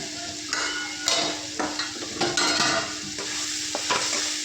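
Potato chutney with turmeric and coriander powder is stir-fried in a pan, with repeated close spatula scrapes and taps over a continuous sizzle, loud and steady throughout.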